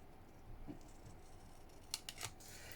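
Scissors snip paper for a flip flop tag at a quiet craft table, with a few faint close cuts and small clicks over a low background hiss.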